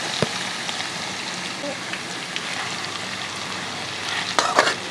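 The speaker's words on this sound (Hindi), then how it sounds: "इसे हम हल्का सा भून लेंगे, प्याज को नरम कर लेंगे।" Sliced onions frying in a pan, a steady close sizzle with occasional stirring scrapes and a brief louder burst near the end.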